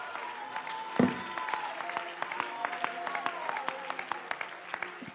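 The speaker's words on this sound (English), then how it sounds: "Would you clap your hands with all of your might and let's shout some praise to the Lord?" Church congregation clapping hands in praise during a worship service, a fairly quiet scattered rhythmic clapping with a sharp knock near the start and faint voices underneath.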